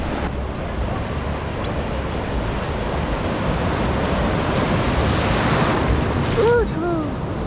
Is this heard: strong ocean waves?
yes